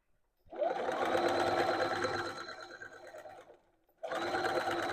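A sewing machine stitches along a dress collar beside an earlier seam line, running in a steady close whirring burst, stopping briefly, then starting again.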